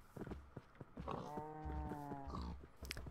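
Cows and pigs being led through a Minecraft village, with soft animal calls, a drawn-out grunting or mooing tone and light shuffling steps, fairly quiet.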